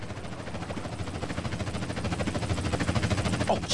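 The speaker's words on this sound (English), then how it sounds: "Chopper inbound! That's gotta be Torino." A helicopter arrives in the video game GTA San Andreas, its rotor chop a steady rapid pulsing that grows gradually louder as it approaches, with a brief sharper sound at the very end.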